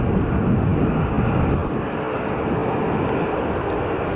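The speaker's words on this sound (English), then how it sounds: "We got some EasyJet, and this one is an Airbus A320 that has arrived from Naples." An EasyJet Airbus A320 that has just landed after arriving from Naples rumbles with a broad, steady jet engine roar, loud and continuous at an airport with no pauses.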